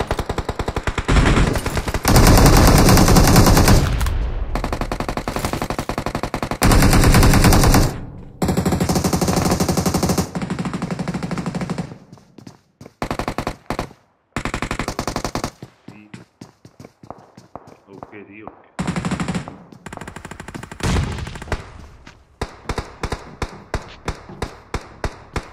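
Automatic gunfire rattles through a zombie event in a video game: long, loud bursts of rapid shots with sharp single cracks and short gaps between volleys.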